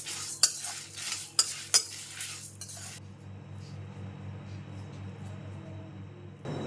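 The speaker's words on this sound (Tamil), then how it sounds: "இதை வந்து இப்போ நல்லா வறுத்து எடுத்துக்கலாம், ட்ரை ரோஸ்ட் பண்ணிக்கலாம்" Whole spices including cinnamon, cloves, cardamom, dried chillies, pepper and coriander seeds are dry roasted in a pan, with a few sharp metal scrapes and clinks of a spoon early on, followed by a quieter steady rustle.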